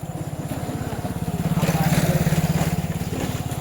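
An engine with a steady low chugging pulse swells near and then eases off, suggesting a motorcycle passing close by on a village road in Bihar, with no talk over it.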